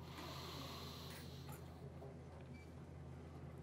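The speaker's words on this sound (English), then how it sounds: "Big deep breath in through your nose." A group in a wellness workshop takes a big, deep breath in through the nose: a quiet, airy nasal inhale heard close, faint over a low background hum, with no talking.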